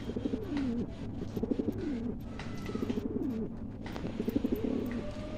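Madras breed pigeons in a loft coo softly in repeated rolling phrases, several birds close by with a faint background hum.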